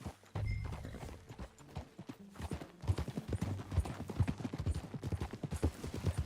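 Horse hooves clip-clop in Red Dead Redemption 2, a steady rhythmic trot of crisp close strikes building over several seconds, with faint low background sounds and no talk.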